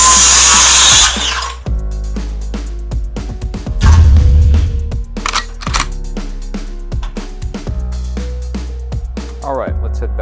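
A lightweight cordless Makita power saw fitted with a Power Stack battery makes diagonal cuts, with one loud burst of blade noise in the middle, followed by scattered knocks and clatter from handling the work.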